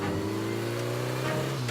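Motorcycle engine revving steadily as it is driven off, a continuous mid-pitched drone with a slight rise in pitch near the end, close and fairly loud.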